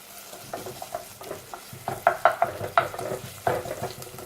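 Onions and mushrooms frying in a pan, with soft sizzling and scattered scrapes and clicks as the food is stirred, moderately close and without talk.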